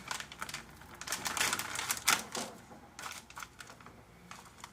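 A bag of hazelnut cocoa-filled biscuits being ripped open, giving a run of crackly, crinkling plastic tearing and rustling bursts, close and fairly loud, with no talking.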